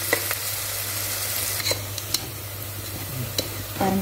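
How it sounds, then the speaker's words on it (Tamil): Onions frying for mutton biryani, being cooked down until deep maroon: a continuous close sizzle with a few sharp clicks and taps from stirring, no voices. "அதனால ஆனியன் வந்து நல்லா மெரூன் கலர் ஆகிற வரைக்கும் வறுத்துருங்க."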